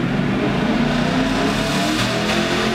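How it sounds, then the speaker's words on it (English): A 2010-2022 Camaro SS V8 roars continuously at high rpm in third gear on a dyno, pulling steadily toward redline with a loud, dense, unbroken engine note. "in order to run the car all the way up to redline, we had to run it in third gear"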